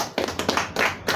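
Audience clapping at an awards unveiling event in Kenya, a short burst of applause with several distinct loud claps in an uneven rhythm, close and fairly loud.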